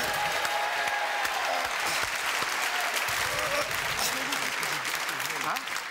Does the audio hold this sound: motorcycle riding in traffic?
no